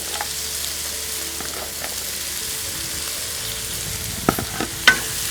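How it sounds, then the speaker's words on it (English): Green pepper and onions frying in a pan give a soft, steady sizzle while being stirred, with a few sharp scrapes and clinks of the utensil toward the end. "continue to stir it so that it doesn't get stuck to the pan"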